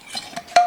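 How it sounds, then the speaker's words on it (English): A lid is clinked onto a glass jar of homemade dressing made with apple cider vinegar and honey, followed by a few short rattling knocks and a bright ringing clink as the jar is shaken. "put on a lid on it. Really shake her up."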